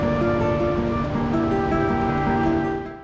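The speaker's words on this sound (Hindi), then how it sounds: "सामने आपको वाटरफॉल भी दिखाई दे रही है। मकोली की वाटरफॉल है जो मकोली की झीलों से निकलती है।" A mountain waterfall fed by the Makooli lakes gives a loud, continuous rushing roar that fills the scene from start to finish and eases slightly at the very end, with no talking.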